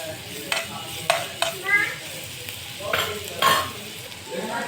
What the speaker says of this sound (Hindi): अलग से डाली तो हल्का से थोड़ा सा अदरक के भून लीजिए